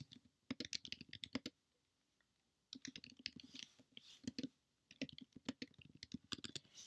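Quick bursts of clicking keystrokes as text is typed on a computer keyboard, close and fairly quiet, in three runs separated by short pauses, with no talking.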